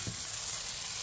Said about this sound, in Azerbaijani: Badımcan kıpkırmızı kızardı.